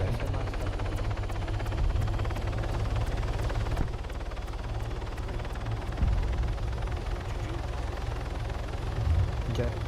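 A helicopter in the Arma 3 video game, a steady low rotor drone with faint repeating blade ticks that lasts the whole stretch at moderate level, with other game noise mixed in.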